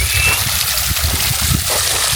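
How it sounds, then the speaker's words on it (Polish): Water spouts from a dragon-shaped fountain in palace gardens, splashing and splattering continuously with a lively, close, slightly gurgling flow. "tutaj następny smok, jak tryska, tylko on nie tryska ogniem, nie zieje, tylko wodą"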